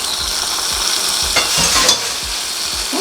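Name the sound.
cashews frying in oil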